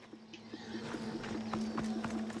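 Horse hooves clip-clop in a steady walking rhythm in Assassin's Creed Odyssey, fairly faint and alone, with a brief whinny-like tone.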